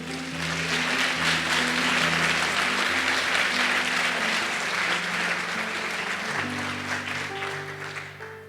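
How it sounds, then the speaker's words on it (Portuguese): A congregation at a church conference claps steadily and densely, loud and sustained throughout with a tonal background underneath, easing slightly toward the end. "Por favor, dá um aplauso aí ao Senhor."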